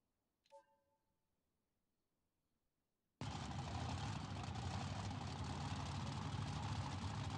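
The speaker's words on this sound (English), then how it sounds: "engine sounds good" A monster truck engine in BeamNG.drive bursts into a loud, steady, close idle after near silence, preceded by one brief faint tone.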